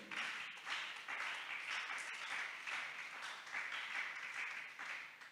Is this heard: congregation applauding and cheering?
yes